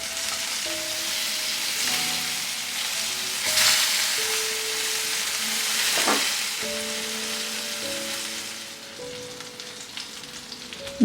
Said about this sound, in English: Had marinated some fish pieces, so frying it just before serving.